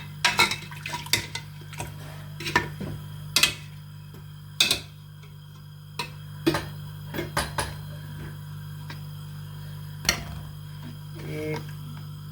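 A spoon stirring meat, onion, garlic, ginger, spices and water inside a metal pressure cooker, with irregular sharp clinks and scrapes against the pot spread across the clip over a low steady hum.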